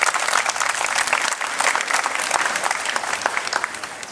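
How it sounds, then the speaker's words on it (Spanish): Crowd applause at a municipal office event in Acapulco, dense sustained clapping from many hands, loud and close throughout. "Un aplauso para ustedes mismas también,"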